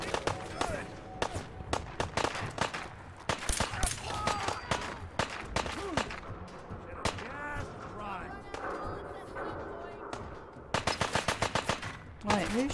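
Rapid automatic gunfire in Fallout 4 at Cabot House, loud repeated bursts of sharp cracks coming in clusters throughout, with a voice talking between and over the shots.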